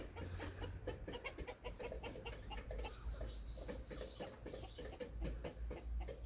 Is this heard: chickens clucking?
yes